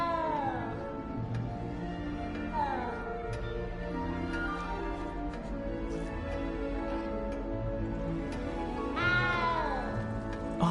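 A frightened cat in the Hogwarts Legacy video game meows several times, with clear rising-and-falling cries near the start, around two and a half seconds and a louder one near nine seconds, over a steady game background.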